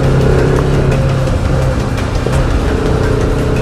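Car engine running steadily on a dusty road on the way to a mountain fair in Doda, Jammu and Kashmir, a continuous close, loud hum with a low rumble, heard amid road traffic with no talking.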